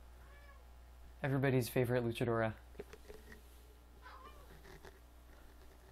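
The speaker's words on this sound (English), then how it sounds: "We have a cat coming to say hello." A cat meows several times in a rising, drawn-out series close to the microphone, then goes quiet beneath a low steady hum, while someone speaks briefly afterward.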